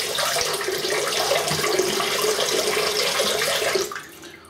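Tap water runs steadily into a sink during a shave, a close, continuous splashing rush that cuts off just before the end.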